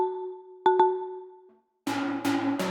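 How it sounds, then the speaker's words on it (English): Several wooden mallet notes from a marimba sample for deep house production ring out, a sustained tone with two quick strikes, a pause, then three bright marimba hits in a row. "This is just like a nice kind of like live marimba."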